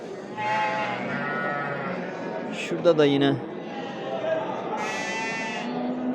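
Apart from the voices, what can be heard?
sheep and lambs bleating at livestock market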